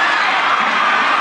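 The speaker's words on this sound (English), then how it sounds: "what a roar from the crowd" Stadium crowd at a men's 4x100 m relay race in 2022 gives off a loud, steady, unbroken roar that holds for about a second without breaks.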